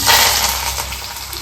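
Mustard seeds, cumin, onion and curry leaves hit hot oil for gobi palya, producing a loud, close, steady hiss and sizzle that eases slightly over its short span.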